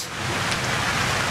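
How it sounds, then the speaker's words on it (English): Steady rain pours down over an outdoor soccer pitch during a men's club match, a dense even hiss with no voices standing out. "This rain is picking up now."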